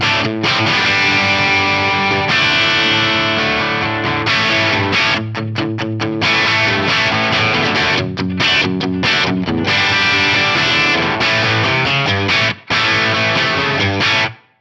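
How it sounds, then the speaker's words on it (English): A Les Paul electric guitar on the bridge pickup, played through a Brit 800 rock amp model with studio reverb, chugs loud, distorted riffs and sustained chords with brief choppy stops throughout. "With a Les Paul on the bridge pickup, this immediately just sounds like rock and roll."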